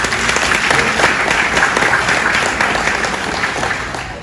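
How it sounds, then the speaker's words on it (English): Hands clap together in steady, full applause from an audience at a hospital farewell party, a dense even wash of clapping that fills the room and fades slightly toward the end. "let's applaud those improvements over the years"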